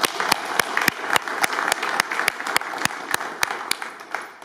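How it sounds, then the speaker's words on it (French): An audience at an outdoor press event in a château park applauds, crisp individual claps popping sharply over a dense clatter of hands, lively and close for several seconds. "On peut l'applaudir."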